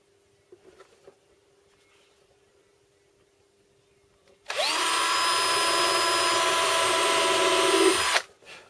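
A power drill with a 1.5 mm bit starts up after a quiet moment and bores a hole with a loud, steady high-pitched whir for roughly four seconds, then stops abruptly.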